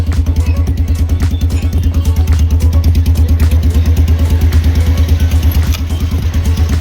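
Close, loud idle of a Royal Enfield Hunter 350 with a Diabolus full-system black edition exhaust: a steady, even thumping beat that repeats throughout, like an old Bullet, with no one speaking.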